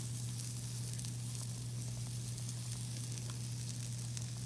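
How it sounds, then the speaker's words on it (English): A coffee maker brewing with a steady hiss and faint gurgling over a low constant hum, continuous and fairly quiet, with no voices. "I am making coffee in the back, so that's the noise that you're hearing."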